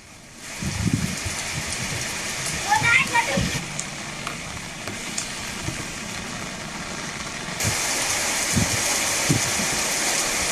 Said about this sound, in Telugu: తెలంగాణ వ్యాప్తంగా భారీ వర్షాలు కురుస్తున్నాయి